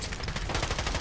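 Gunfire in Call of Duty: Modern Warfare, a dense, loud rapid burst filling the whole short moment with no talk.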